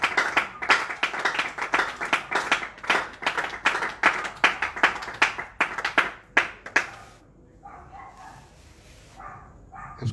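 A church congregation applauding for Jesus, a dense burst of loud rhythmic clapping with sharp individual claps, cut off abruptly and followed by quieter sounds and a voice in the background.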